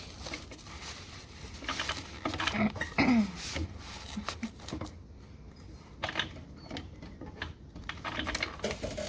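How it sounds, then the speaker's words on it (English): A sewing machine stitches fabric in short, uneven bursts of rapid mechanical chatter with brief pauses between runs, close and moderately loud. "Now let's sew it."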